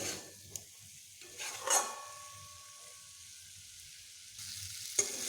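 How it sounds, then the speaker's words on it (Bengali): Fish curry with soft boiled potatoes sautéing in a pan, a low steady sizzle with a few sharper clinks and stirring scrapes, close and fairly quiet with no talk. "এবার আমি খুব ভালোভাবে এটিকে কষিয়ে নেব"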